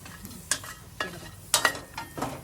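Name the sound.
dry-roasting ingredients in a pan for pon chilo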